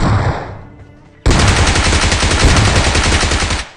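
Loud, sustained automatic gunfire from a new gun in the BGMI battle royale game, a dense rapid burst that erupts suddenly after a quieter stretch and rattles on continuously for over two seconds.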